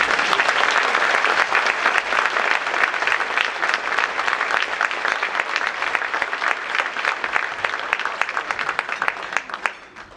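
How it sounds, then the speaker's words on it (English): Loud, dense audience applause at an awards luncheon, many hands clapping steadily throughout and tapering off at the end. "help me give him a big round of applause and welcome him to the stage"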